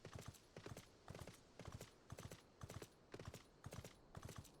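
Hooves of the Sleipnir mount walking in Final Fantasy XIV, a steady, slow clip-clop rhythm of paired hoof strikes, close and clear with no voices.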